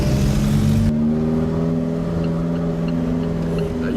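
Steady droning engine of an Alfa Romeo 4C tuned to 330 hp, heard from inside while driving at a constant pace, a loud continuous hum with a brief shift in tone early on.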